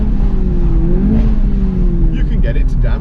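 An Audi TT exhaust revs, with the engine note rising and falling, then gives a short burst of crackling pops. A voice is heard over the close, steady engine sound.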